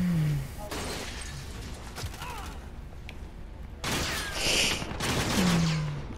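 Bursts of gunfire in the video game Call of Duty, rapid crackling volleys striking a shield at mid distance, with quieter gaps and mechanical clatter between them.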